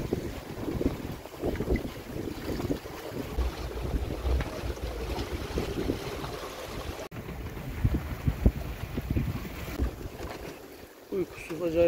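A boat rolls at sea on the Red Sea during an unexpected storm. Heavy wind buffets the microphone over sloshing water and hull noise, and someone speaks quietly throughout.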